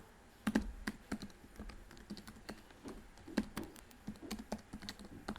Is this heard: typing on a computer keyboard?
yes